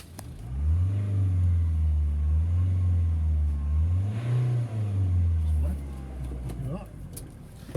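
A car engine idles with a loud, low, wavering rumble that swells and dips for several seconds, then a brief higher-pitched whine and a few clicks near the end.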